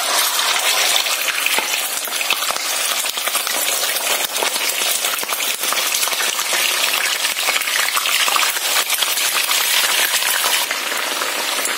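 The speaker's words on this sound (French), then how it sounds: "Je vais donc commencer par faire frire le poisson." Fish fries in a pan of hot oil, a dense, loud, continuous sizzle and crackle with scattered pops throughout.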